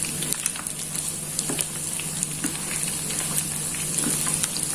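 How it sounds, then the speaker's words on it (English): Soya chunks shallow fry in oil in a pan, making a steady, close sizzle with scattered small pops and crackles and no voices. "Friends, I am shallow frying it."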